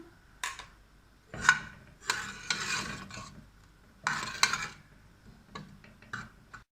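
Ginger garlic paste sautés in mustard oil in a pot, heard as a series of short scraping stirs and crackly sizzling bursts separated by quiet gaps, close and fairly soft.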